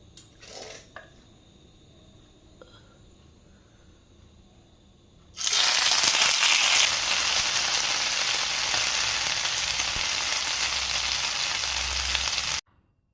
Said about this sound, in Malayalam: അപ്പം ചിക്കൻ ഫ്രൈ ആകുന്നതിനനുസരിച്ച് മറിച്ചും തിരിച്ചുമൊക്കെ ഇട്ട് കൊടുത്തേക്കണേ